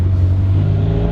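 A Mitsubishi DSM front-wheel-drive car engine revs steadily and smoothly, a loud close droning hum with a constant pitch and no voices over it.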